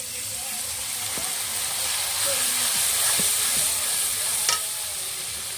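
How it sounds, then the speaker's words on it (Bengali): Spices for a village-style chicken and potato curry sizzle and hiss steadily in a pan, with a little water added and a few scraping stirs; loud and close with no talking. "সামান্য একটু জল দিয়ে দেবো যেন মশলাটা পেতে না যায়।"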